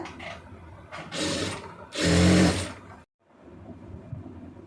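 A sewing machine stitches an armhole joint on a blouse in two short bursts, the second louder and longer, each a rapid mechanical whirr. A quiet pause and faint handling noise follow.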